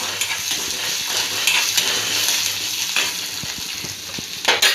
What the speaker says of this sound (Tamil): இந்த நேரத்தில் 2 துண்டு இஞ்சி, ஒரு சின்ன சைஸ் புளி, ஒரு 2 பச்சை மிளகாய், இதை போட்டு நல்லா வதக்கணும்.